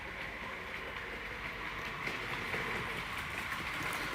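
A model railway locomotive runs along the track of a layout themed on the East Somerset Railway, giving a steady, continuous mechanical rumble and hiss at an even level throughout, with no voices.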